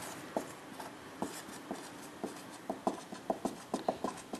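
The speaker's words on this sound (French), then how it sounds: "je vais l'écrire." Chalk or pen strokes writing out a mathematical limit expression during a lecture, a rhythmic run of short scratchy taps and scrapes that grows denser toward the end, close and fairly quiet, with no talking.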